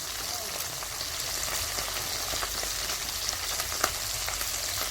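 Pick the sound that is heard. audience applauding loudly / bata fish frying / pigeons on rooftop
bata fish frying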